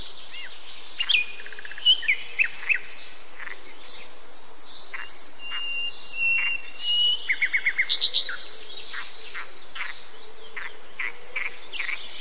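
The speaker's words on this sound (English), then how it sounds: "family of birds sat in my branches, enjoying the sunshine." Game birds chirping in Tree Simulator 2013: short bright tweets and quick trilled runs scattered over a faint steady insect-like hiss, with a few clustered chirp bursts standing out against the quiet background.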